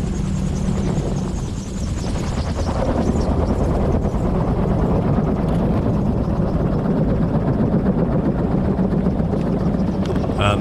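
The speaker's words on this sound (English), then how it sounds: "Now adding power to hover taxi to my parking point" A gyrocopter engine and rotor powering up to hover-taxi over rough ground to a parking spot at sunset: a loud, steady, droning roar with a fast rotor chop throughout, close to the microphone, with no voice.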